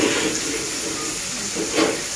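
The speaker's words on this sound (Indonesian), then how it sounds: "Jadi goreng lombok iki." Chilies fry in hot oil for tomato sambal, a steady hiss and sizzle with faint spitting bursts, close and continuous throughout the short stretch.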